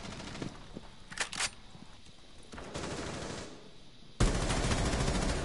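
Gunfire in a first-person shooter video game, with a few separate sharp shots early on, then a loud, sustained burst of firing from about four seconds onward. No talk.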